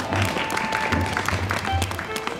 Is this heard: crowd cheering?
yes